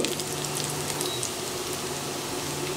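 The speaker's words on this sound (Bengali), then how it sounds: "এভাবে আমি দুই তিন মিনিট ভেজে নিচ্ছি দেখুন পেঁয়াজটা কিন্তু হালকা ভাজা হয়ে গেছে" Onion frying in a pan produces a continuous close sizzle with fine crackling, steady and moderately loud from start to finish.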